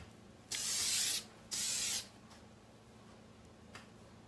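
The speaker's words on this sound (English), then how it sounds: "put some salt and sea spray in it for some extra texture" Two close hissing bursts of sea salt spray are pumped onto hair for texture, each about half a second long, followed by quiet room tone and a faint later puff.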